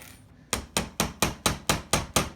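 A metal hammer taps on an airsoft CZ75 SP-01 Shadow pistol: eight sharp, evenly spaced knocks in quick succession, close and loud against a quiet background.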